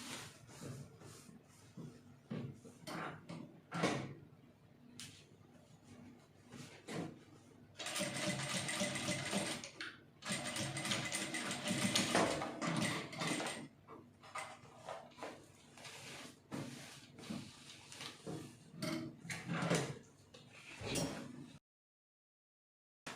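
Sewing machine stitching a single welt pocket in black fabric, running in steady bursts of stitching with the longest continuous run in the middle, interspersed with brief pauses and handling noises.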